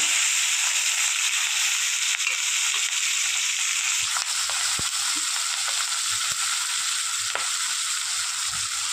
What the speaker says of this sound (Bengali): এবার এই মাছ ভাজা তেলের মধ্যেই দিয়ে দেবো পেঁয়াজ আর কাঁচা লঙ্কা।